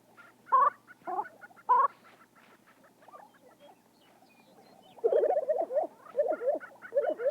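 Lesser prairie chickens calling on open prairie habitat, a series of gobbling, clucking notes in short bursts, then a louder, denser run of rapid yelping calls, close and clear with no talk.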